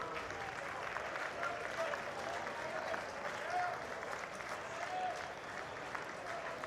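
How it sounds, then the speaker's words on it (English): Oregon State baseball fans keep up a continuous wash of applause and crowd noise at a ballgame, with voices blending into the steady roar. "the Oregon State fans cheer absolutely everything"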